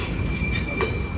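An eastbound Norfolk Southern freight train of boxcars and coal hoppers rolls past close by, a steady rumble with a faint thin wheel squeal, no voices.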